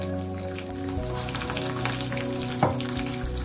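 Cashews and dried red chillies fry in hot oil, giving a steady close crackling sizzle with a brief louder pop partway through.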